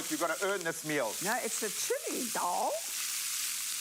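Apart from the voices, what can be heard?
rice frying with chili, ginger and garlic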